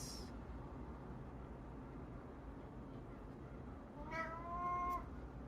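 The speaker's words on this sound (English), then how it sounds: "yeah, that was my cat." A house cat meows near the end, a short rising-and-falling call heard over steady room noise, fairly faint against the background hum.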